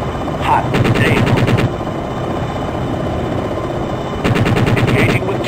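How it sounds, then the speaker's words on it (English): Helicopter cannon fire in the Jane's Longbow flight sim, two loud rapid bursts of gunfire separated by a pause, over a constant rotor and engine drone, with brief radio-style voice chatter. "Engaging with cannon. Engaging with cannon."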